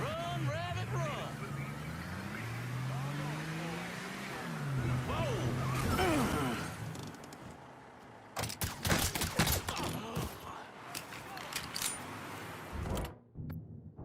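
Gunfire in Mafia 3 erupts as a cluster of sharp, loud shots in the latter half, following a stretch of voices and game sound.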